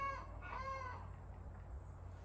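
Hens cluck in a couple of short, quiet bursts at the start, then fade into a faint, low-humming outdoor background on a rural property.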